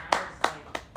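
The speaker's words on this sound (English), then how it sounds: "gonna applaud you for that" Four slow, distinct hand claps from a single person, close and fairly crisp, evenly spaced across about a second.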